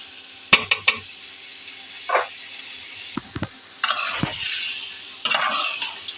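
Sliced bitter gourd (korola) stir-fried in a pan until crisp, with a spatula scraping and stirring in short irregular bursts over a soft sizzle; no talking.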